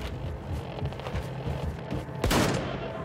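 Shotgun blasts and heavy gunfire in the video game Wolfenstein 2: The New Colossus sound as a rapid series of loud close shots, with a bigger booming blast near the end.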